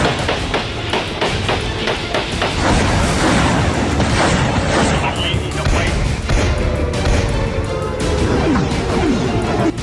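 Dense, continuous barrage of loud crashing blasts and sharp impacts from artillery and rockets in fighting between Thailand and Cambodia, heavy and chaotic throughout, with a voice faintly mixed in.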